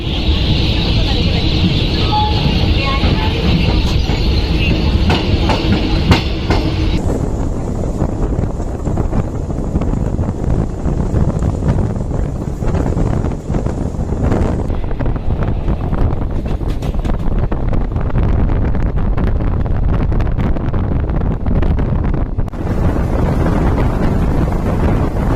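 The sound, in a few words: Garib Rath express train running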